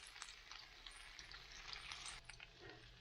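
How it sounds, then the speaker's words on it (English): Food fries gently in a pan over low heat outdoors in Cornwall, a soft continuous sizzle and crackle holding steady throughout with no voices. "They're frying nicely on a low heat."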